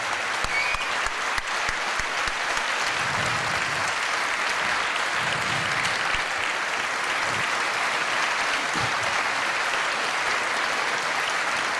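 Sustained applause from an audience at a 30th anniversary tribute event, dense and steady throughout with no break, filling the room at a constant level.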